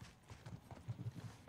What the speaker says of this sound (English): What are these footsteps?